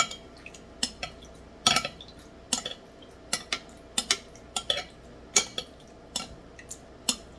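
A spoon scrapes and taps a water-damaged transmission control module circuit board from an Audi A6 C5 4.2, making sharp, irregular metallic clicks and scratches, close and fairly loud, with quiet gaps between them.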